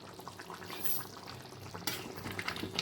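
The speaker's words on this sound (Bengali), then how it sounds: "দেখুন রান্না হচ্ছে চিকেন কষা।" Chicken kosha, a Bengali spiced chicken dish made with large leg pieces, simmers in a pot on the stove with a steady, soft bubbling sizzle that stays faint and even throughout, with no voices.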